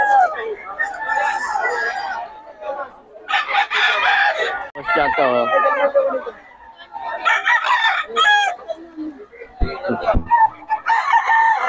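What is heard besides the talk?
chickens and roosters crowing and clucking at a market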